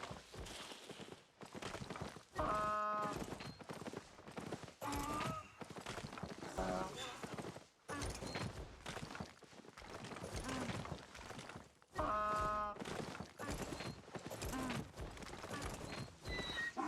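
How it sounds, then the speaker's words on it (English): A donkey's hooves clip-clop in the video game Albion Online, a repeated galloping patter with braying whinnies and music running underneath. "Oh, that's his donkey."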